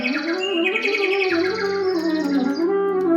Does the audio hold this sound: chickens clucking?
no